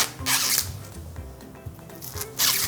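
Husks are peeled off a corn cob in a few sharp, close tearing rips, each a quick rustling burst separated by quieter handling.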